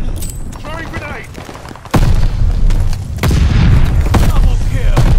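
A Call of Duty Vanguard hardpoint match with a grenade exploding in a sudden loud boom, then heavy gunfire and blasts continuing, with game voice chatter over the top.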